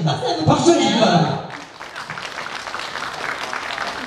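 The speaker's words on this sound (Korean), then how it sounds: "박수 주시기 바랍니다." Applause from a crowd at an outdoor stage concert in a park, a dense roar of clapping in the first second and a half that drops to a softer, scattered patter, with voices mixed in.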